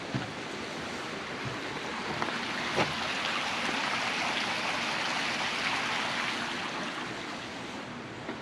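A creek in Mill Valley, California, flows under a small bridge near Cascade Falls and Old Mill Park, a steady rushing, burbling wash of water that stays continuous and moderately loud, with no talking.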